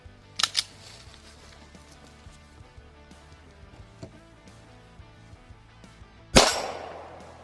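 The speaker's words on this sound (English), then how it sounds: "move up to 9mm out of the Glock" Gunshot from a 9mm Glock fired at AR500 steel body armor: a sharp crack with a ringing impact near the end, after two quieter early pops and a low background hum.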